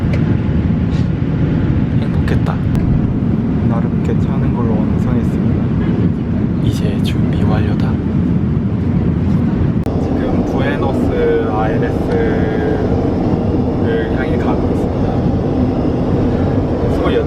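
Steady broadband roar inside an airliner cabin on a long-haul United Airlines flight, a constant engine and air drone with scattered clicks and rustles, while a voice talks over it.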